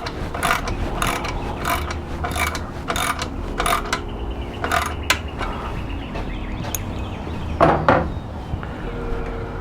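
A ratchet tightens the top muffler and bracket bolts of a full HMF exhaust on a YFZ450r, a close rapid clicking in repeated bursts over a faint background hum.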